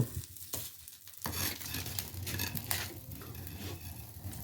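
Bay leaves hit hot oil in a wok while chicken soup is being started; after about a second of quiet, a steady, fairly close crackling sizzle rises and continues to the end.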